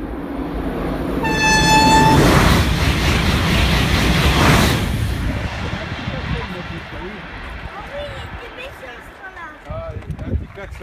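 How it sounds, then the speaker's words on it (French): A TGV high-speed train on the LGV Atlantique line near Aunay-sous-Auneau, France, sounds a loud horn blast, then rushes past close by in a heavy roar that gradually fades into the distance. "Il va arriver, il va faire un klaxon."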